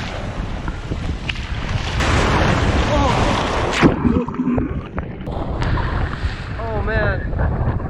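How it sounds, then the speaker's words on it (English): Strong sea waves surge and wash over a rocky beach at Plum Bay, St. Martin, a loud continuous roar mixed with wind buffeting the microphone and brief voice sounds. "And the waves are strong."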